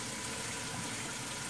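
Tap water pours steadily into a simple old plastic ice tray, about two cups' worth, in a home kitchen: a brief, even, close rushing splash with no voices.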